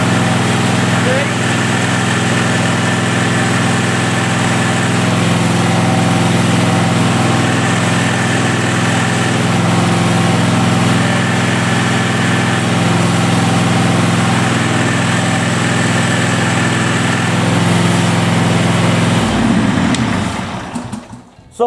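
A John Deere SST16 riding mower's engine runs at a steady, loud idle drone close by and cuts off near the end, while someone talks over it.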